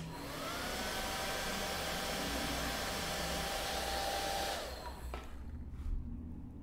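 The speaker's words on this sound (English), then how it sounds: "Again, hit it with the hairdryer." A hair dryer blows in a steady, loud continuous whoosh used on paint streaks during an art demonstration, running for about five seconds before cutting off, followed by quieter background noise.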